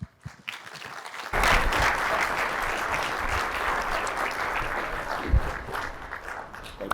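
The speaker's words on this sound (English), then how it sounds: "please give a warm round of applause to my friend David Barr." A large audience at an IFPG retreat breaks into sustained applause welcoming keynote speaker and IFA chair David Barr, starting abruptly after a quiet moment and holding loud, dense clapping throughout.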